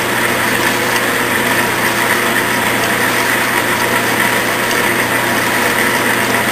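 A Clausing lathe runs its final thread-cutting pass, a loud continuous motor whine and machining hum with a steady tone and no break, close and alone with no speech.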